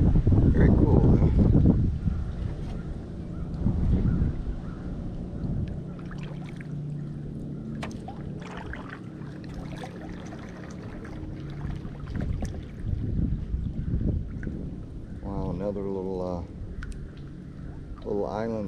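Wind gusts buffet the microphone on a swamp creek while a kayak paddler moves along, with irregular blustery rushes, light water splashes and paddle drips, and someone talking in between.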